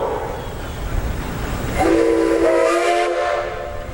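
Craig Clark's Baker steam traction engine sounds its whistle at a threshers' steam show in Wauseon, Ohio: a loud, sustained, slightly wavering blast rising out of outdoor crowd noise and lasting about two seconds.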